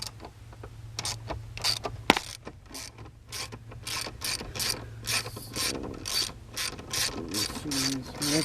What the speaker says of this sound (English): Once you get them loose, you can take off the ratchet and just turn it.